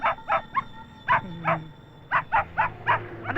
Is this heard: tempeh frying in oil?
no